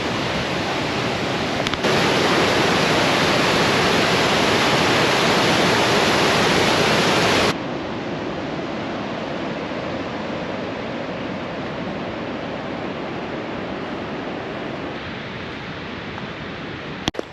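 A waterfall at an overlook near Crossville, Tennessee rushes in a steady, loud broadband roar that runs unbroken throughout, dropping slightly in level partway through, with no talk.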